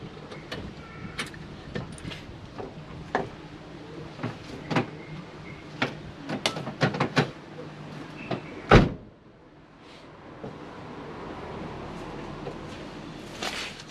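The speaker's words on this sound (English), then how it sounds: "so I'll close this door and I'll show you" A Holden Jumbuck car door swings and shuts with one heavy thud. Scattered clicks and knocks of handling come before it, and a low hum follows.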